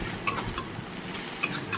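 Pangas fish curry with garlic fries in a pan while a utensil stirs it, a steady sizzle underneath and four distinct scraping strokes spaced across the stretch, close and fairly loud with no talking.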